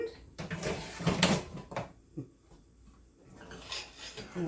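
Metal cutlery and dishes clatter and clink nearby as a small spoon is picked out in a home kitchen where shrimp and oyster mushroom pasta is being made, a few sharp rattles followed by quieter handling.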